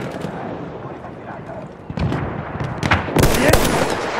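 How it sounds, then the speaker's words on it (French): Enemy machine gun fire in the video game Battlefield 1, bursts of rapid shots that grow louder and denser toward the end, mixed with booming impacts amid the battle noise. "Mitrailleuse ennemie, par là!"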